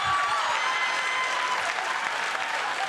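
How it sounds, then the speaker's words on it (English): A game show studio audience bursts into sustained applause, with dense, even clapping that holds steady for a few seconds and no speech over it. "You're clapping because you're not shocked"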